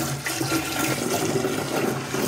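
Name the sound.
pouring water into a fermenter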